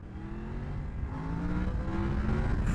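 A new 1000cc motorbike in low traction control mode 1 revs steadily under light throttle, a continuous close engine drone rising slightly in pitch, with no voices over it.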